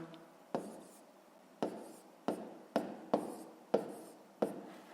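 Numbers written out on paper during a fifth-grade subtraction exercise, seven short scratching pen strokes in an uneven rhythm, close and quiet, with no voice.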